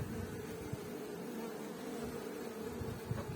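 A honey bee colony hums steadily inside its hive, a dense, close, continuous buzz with no pauses and no talking.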